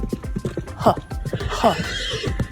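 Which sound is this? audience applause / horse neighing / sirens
horse neighing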